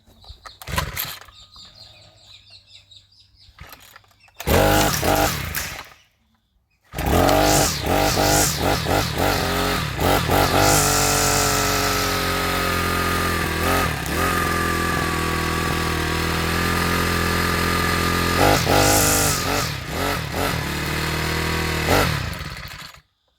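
An abandoned four-stroke Yard King whipper snipper starts after a few brief bursts, then runs loudly and steadily at close range with a harsh buzzing drone and occasional revs before cutting off.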